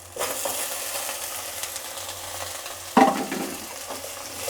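Fenugreek leaves sautéing in a pan, a steady soft sizzle with light stirring scrapes and one sharper clatter partway through, fairly close and with no talk.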